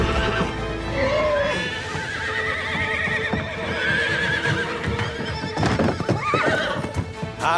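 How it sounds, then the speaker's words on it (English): Cartoon horse whinnying loudly over clip-clopping hooves, a busy full-band mix with shrill neighs rising near the end and some voices mixed in. "All right, devil horse, nice and easy."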